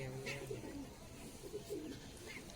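Pigeons coo faintly in the distance, a few soft rolling calls rising over a quiet, hissy background.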